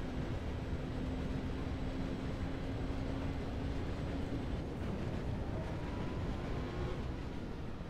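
A train in the video game Wheelman rumbles steadily, a loud, continuous low roar of rolling wagons that holds through the whole stretch.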